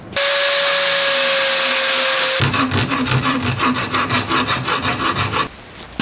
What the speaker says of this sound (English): I'm gonna go ahead and grind that off.